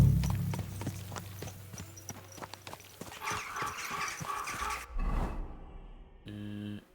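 A horse in Kingdom Come: Deliverance 2 clip-clops with steady, distinct hoof strikes on hard ground, close and clear for several seconds before the rhythm fades into game ambience and a short synthetic tone.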